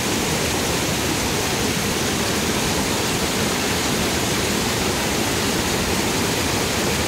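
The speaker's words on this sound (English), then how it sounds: "This is Wilcannia Weir, 4th of March 2021." Water pours steadily over Wilcannia Weir on the Barka river, a dense, even rushing roar that stays loud and unbroken throughout, with no voices.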